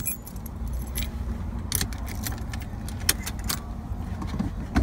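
Keys to a 1974 Ford Gran Torino jangle close by in repeated bright metallic jingles and clinks over several seconds, with a faint car interior hum underneath.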